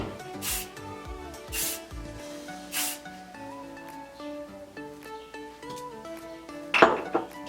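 Three short hissing bursts of Play Dirty hair spray, spaced about a second apart, close by and moderately loud, with faint background music and a clatter near the end.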